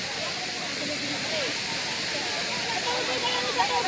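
A waterfall at Tsu Kung Tam rushes in a steady, loud broadband roar that fills the whole clip, with faint voices buried underneath.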